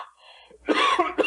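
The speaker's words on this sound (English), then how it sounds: "How long have you had that cough?" A person coughs twice in a dry, harsh burst, close and fairly loud, after a brief faint murmur, with no other talk.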